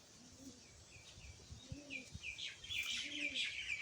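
Racing pigeons, including a Janssen-line Maxi Dubois bird, coo in soft low repeated phrases close by, mixed with higher bird chirps that grow busier toward the end.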